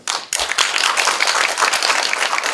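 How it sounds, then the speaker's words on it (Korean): An audience gives a lecture applause, dense sustained clapping from many hands starting abruptly and continuing steadily, close and fairly loud, with no talking over it. "멋진 강연을 펼쳐주신 장명 교수님 다시 한번 큰 박수 부탁드립니다"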